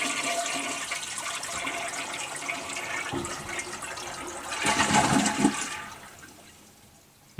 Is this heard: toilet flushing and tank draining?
yes